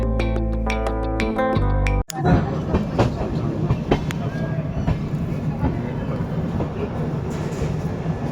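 Gitanjali Superfast Express, a passenger train on a Kolkata to Nasik Road run, rolls into Nagpur Junction. A loud rumbling, rattling din of carriages sets in after a brief horn-like harmonic opening, steady with scattered clanks.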